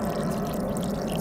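Water pours steadily into a container while building an underground home gym, a continuous low gurgling rush heard briefly on its own.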